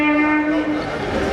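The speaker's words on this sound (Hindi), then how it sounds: "जो कि सीएनजी से चलने वाली पहली संचालित ट्रेन है भारतीय रेल की" CNG-powered DEMU passenger train on the Rewari–Rohtak line sounding its horn, a loud sustained tonal blast held for the whole moment, close by.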